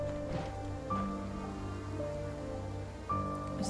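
Heavy rain in a video game, a steady dense hiss of falling water mixed with a sustained musical drone and occasional brighter tones, continuous and fairly loud throughout.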